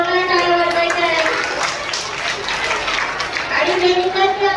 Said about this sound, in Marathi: त्यासाठी जोरदार टाळ्या वाजवायच्या आहेत